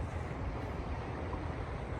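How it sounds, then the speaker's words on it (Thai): Strong river current rushes past during a tubing trip, a steady, broad wash of moving water close by, blended with gusts of wind noise on the microphone. "น้ำไหลเลย แรงนะครับตรงนี้"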